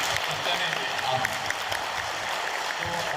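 Audience applause at a literary and cultural festival in Bahawalpur, a steady dense wash of clapping that holds evenly for the whole stretch, moderately loud and without pauses.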